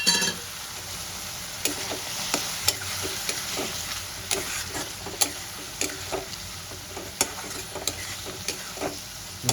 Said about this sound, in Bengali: মশলাটা কষতে কষতে আমি কেটে রাখা টমেটোটা দিয়ে দেবো।